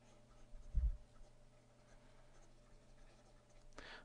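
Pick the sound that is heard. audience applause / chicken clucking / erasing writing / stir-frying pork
erasing writing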